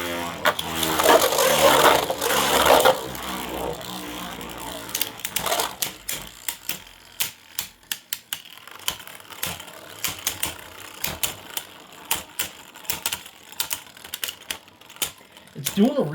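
3D printed Beyblades spin and clash in a stadium, producing rapid clicking and rattling impacts with a louder burst of scraping early on, then scattered sharp knocks over a steady whirring.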